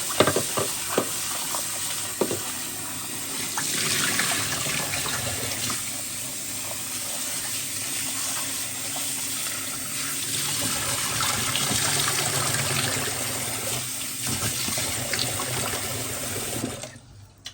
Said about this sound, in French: Je vais rincer les margozes parce que j'ai mis dans le sel pour tirer un peu l'amertume.